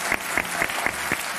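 Steady applause from an audience, with rhythmic clapping running through the whole short stretch at moderate loudness.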